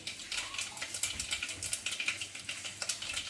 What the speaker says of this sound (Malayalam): കടുക് പൊട്ടിച്ചു